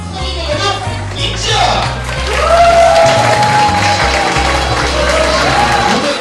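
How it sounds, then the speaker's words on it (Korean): Applause at a child's first birthday party (dol celebration) in Korea, loud sustained clapping from a gathered crowd over steady background music, with voices and cheers mixed in. "주인공이 등장하자 아낌없는 박수가 쏟아집니다"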